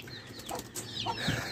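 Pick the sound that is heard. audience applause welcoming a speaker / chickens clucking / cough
chickens clucking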